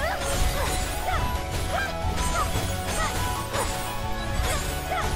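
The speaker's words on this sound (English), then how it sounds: "We shattering some glass?" Glass shatters during combat in an action video game styled after Wuthering Waves and NieR Automata, a dense crashing burst over constant loud game audio with repeated bright chiming accents.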